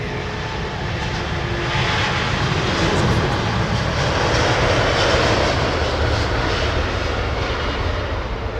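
An Airbus A320 airliner at London Heathrow Airport, its jet engines producing a loud, steady roar that swells slightly mid-way, heard alone for several seconds.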